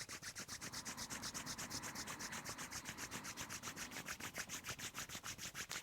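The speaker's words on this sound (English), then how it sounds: "Rub your palms." Two palms rubbed briskly together, a close, dry swishing in a fast, even back-and-forth rhythm that continues steadily with no talking.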